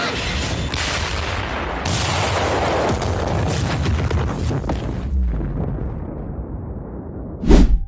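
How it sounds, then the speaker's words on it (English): Explosions from the Chainsaw Man anime crash out as loud, rumbling booms with crackling debris, then fade into a quieter rumble before one final sharp blast near the end. "Even if an explosion doesn't hit you, it's still scary."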